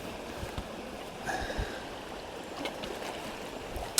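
Fast, quick-running water on a salmon river, a steady broadband rush with small splashes, close and continuous with no voices.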